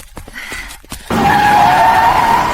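A car brakes hard and skids, a loud sustained tire squeal that cuts in abruptly after a second of quiet scuffling and holds steady to the end.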